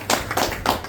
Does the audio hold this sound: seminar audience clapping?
yes